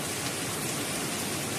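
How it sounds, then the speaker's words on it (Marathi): Heavy monsoon rain pours down outdoors, a dense steady hiss filling the whole moment with no voices. "हा किती जोरात आणि किती असा पाऊस आता आलेला आहे"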